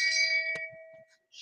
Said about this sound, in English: Where's the fucking shame bell?